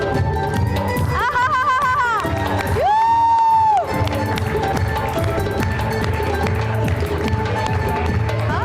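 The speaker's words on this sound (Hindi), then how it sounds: "बहुत सारी तालियां।" Studio audience applause and cheering at a Hindi television show fill the whole stretch as a steady, loud crowd roar, with brief bright tonal sweeps rising over the noise.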